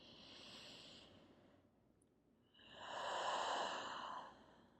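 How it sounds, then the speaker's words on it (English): Deep breathing during yoga practice: a long airy inhale, a quiet pause, then a fuller, louder exhale, close and alone without speech. "Go ahead and take 2 big breaths here."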